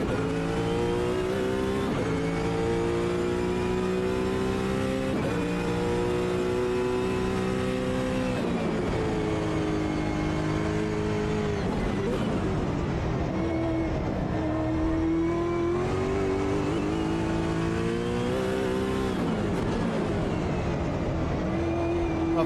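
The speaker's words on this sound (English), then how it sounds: "God, the gargling that you just hear out the back" Race car in the sim racing game Automobilista 2, its exhaust gargling and popping as the engine revs rise and fall through gear changes and corners, loud and continuous for the whole stretch with no voices.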